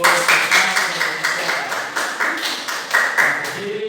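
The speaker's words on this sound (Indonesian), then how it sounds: "Tepuk tangan untuk" Several people in a classroom clap together in a quick, steady burst of applause that carries on for a few seconds at close range.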